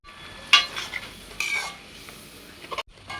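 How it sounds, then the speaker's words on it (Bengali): Spices being stirred in a cooking pan as milk is added bit by bit, with soft scraping and clinking of a utensil against metal, a faint sizzle underneath, and a few sharper taps, all close and fairly quiet. "এবারে একটু একটু করে দুধ দিতে হবে আর পেঁয়াজটা নাড়তে হবে"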